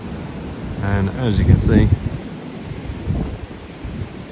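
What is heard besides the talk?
wind blowing on a windy day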